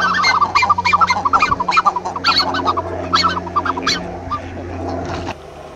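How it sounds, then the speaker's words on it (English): Black-necked swans call in a rapid run of soft, wheezy honking notes at Llanelli Wetland Centre in the UK, close and fairly loud over a low steady background hum, with other waterfowl faintly around. "What a wonderful sound from the black-necked swan."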